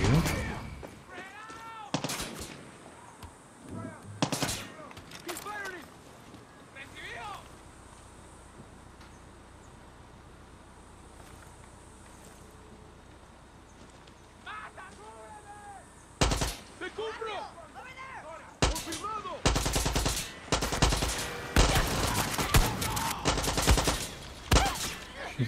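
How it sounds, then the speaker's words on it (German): Enemy gunfire aimed at the player in Far Cry 6: sharp rifle shots and rapid bursts of automatic fire, sparse early and then dense and close near the end, with someone talking in between. "Schießen da jetzt schon wieder auf mich."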